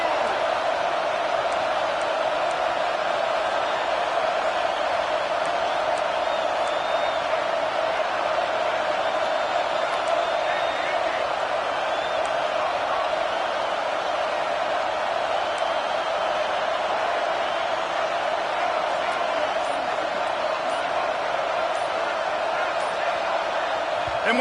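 An NCAA football video game stadium crowd roars steadily, a broad, constant wall of noise with scattered whoops, sustained at an even level for the whole stretch while a commentator talks over it.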